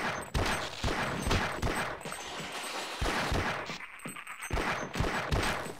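Rapid, dense gunfire from a fast-firing weapon in the Half-Life Unreal Engine 5 game, a continuous barrage of loud close shots with no talk over it.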